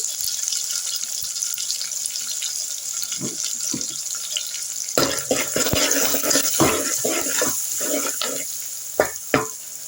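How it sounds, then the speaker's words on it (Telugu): Green chillies and onions sizzle and crackle in a hot pan, a continuous close hiss with irregular popping bursts that grow busier partway through. "పచ్చిమిర్చి, ఆనియన్ వేగుతున్నాయి కదా"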